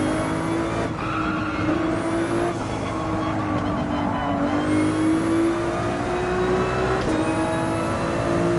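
A race car in Gran Turismo 7 on the Highway 1 time attack holds a steady, loud engine drone whose pitch climbs and dips slightly with light braking and acceleration, running continuously with faint tire noise and no talk.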